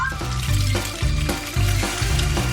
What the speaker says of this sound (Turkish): Daha da lezzetli olması için tavada kızartıyorum.